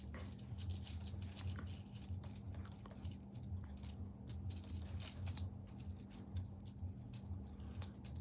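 Soft metallic clinking and rattling of nickels rolling and dropping, a continuous patter of small taps over a low hum.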